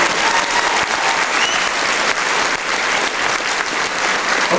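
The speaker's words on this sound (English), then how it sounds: "please put your hands together and please say thank you" Audience applause at a live event, dense and sustained clapping from a full crowd throughout, loud and close with no pause.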